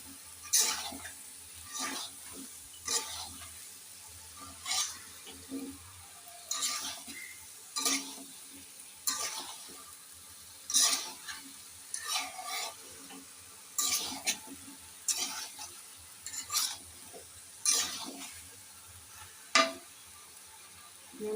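Taro stolons being stirred into spiced, fried hilsa fish heads in a pan, a spatula scraping and turning in repeated strokes about every second or two, with a soft sizzle underneath, close up and no talking.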